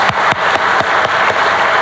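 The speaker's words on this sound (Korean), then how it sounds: "그분들께 한번 감사의 박수 한번 크게 부탁드립니다." A church congregation claps loudly in thanks, with sharp, evenly spaced strikes about four per second standing out over a steady bed of general applause.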